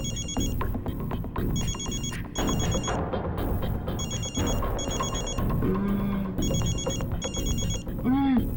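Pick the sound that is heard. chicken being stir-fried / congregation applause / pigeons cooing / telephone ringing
telephone ringing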